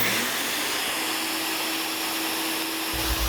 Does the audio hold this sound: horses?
no